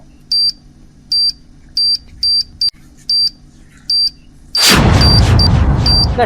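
A bag gives off a sharp high electronic beep repeated at a quick, slightly uneven pace, then a loud booming blast swells up and drowns it out.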